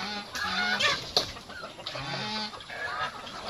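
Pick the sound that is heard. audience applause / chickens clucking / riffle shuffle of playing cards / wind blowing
chickens clucking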